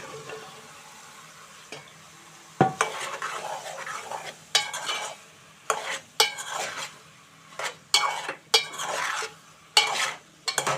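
Bottle gourd pieces are stirred with tomatoes in a pot, a run of close, irregular scraping and clattering spatula strokes over a faint sizzle, with brief pauses between strokes and no talking.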